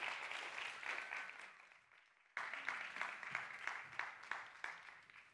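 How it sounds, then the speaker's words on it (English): Audience applause at a live science communication competition semi-final, a continuous clapping wash that fades out, then a fresh burst with rhythmic claps standing out, moderately distant. "Yes, to applause."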